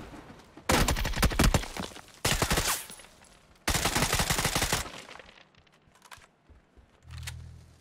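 Gunfire in the battle royale game PUBG, loud bursts of rapid automatic fire in three main volleys, then scattered quieter shots, and a low rumble near the end.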